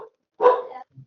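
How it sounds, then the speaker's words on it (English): A single sharp bark from a pet dog sounds close by in an otherwise quiet room, with a faint, brief yip afterward. "Sorry, that's my dog."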